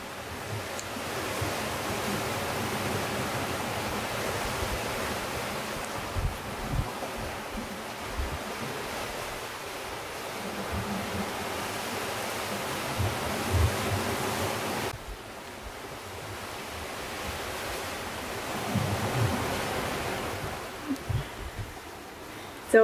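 Ocean waves wash steadily around a small boat at sea, a continuous broad rushing with wind noise and occasional louder surges.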